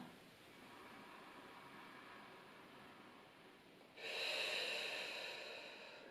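Slow, deep breaths during a sophrology relaxation exercise, a soft airy exhale swelling louder near the end, close and without speech.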